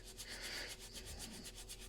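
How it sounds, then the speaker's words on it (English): A sanding pad rubs briskly over a diecast Ford Capri Mk3 model car body in close, quiet, rhythmic back-and-forth strokes with no other sound. "we're going to give it a good rub down with the old sanding pad"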